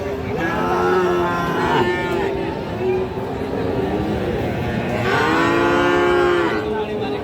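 Cattle at a livestock market lowing loudly and close by, two long drawn-out moos with a shorter call between them, over a busy background of crowd murmur and voices.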